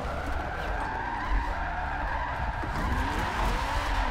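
Dodge Viper ACR V10 drift car, over 1,000 horsepower, skidding around Maple Valley in a racing video game: a continuous loud tire screech over a dense, steady engine roar, sustained without break.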